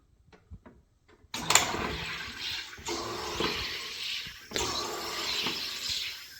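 SodaStream Terra carbonating water: a sharp click, then a loud steady gas hiss and rush that surges in a few bursts, near and alone with no talk.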